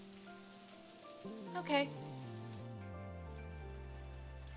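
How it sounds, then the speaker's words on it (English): Steady, soft rain patters throughout a scene in the video game Necrobarista, sitting under a gentle musical score, with a brief spoken word partway through. "Just try and enjoy the rain."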